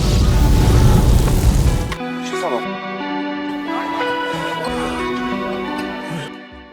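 A loud, roaring blast fills the first two seconds, then cuts off abruptly into quieter tonal sounds and voices.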